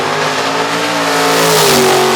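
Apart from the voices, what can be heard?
drag racing Camaro accelerating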